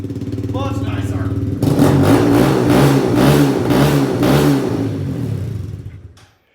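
Loud close revving from a Kawasaki Z125 motorcycle with an anodized aftermarket exhaust: a steady idle jumps into a series of throttle blips, then the engine dies away to silence.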